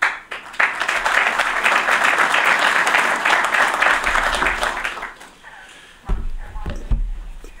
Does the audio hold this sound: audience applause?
yes